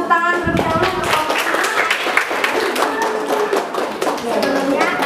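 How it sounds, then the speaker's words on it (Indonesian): Applause from a classroom of students during a lesson-study session, hands clapping and tapping in a lively, uneven patter that fills the room, with voices mixed in. "Berikan tepuk tangan terlebih dahulu."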